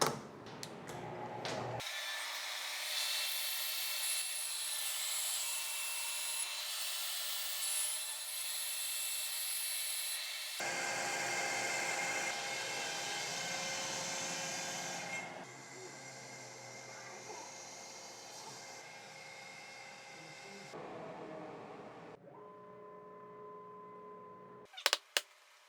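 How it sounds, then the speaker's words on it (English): A CNC spindle cuts wood with dust collection running, a loud steady high whine and roaring suction that shifts in pitch as the cut progresses, stopping near the end with a few clunks. "now I'm going to turn the spindle and the dust collection and do this cut"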